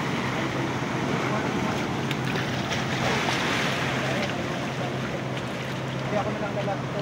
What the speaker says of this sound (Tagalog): Tayo kung malakas ng alon.